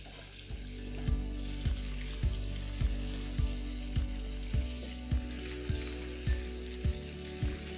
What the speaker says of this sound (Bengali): তারপর এটাকে উল্টে পাল্টে পেঁয়াজের সাথেই ভালো করে ভাজতে থাকুন